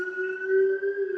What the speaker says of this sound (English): We got an ambulance here.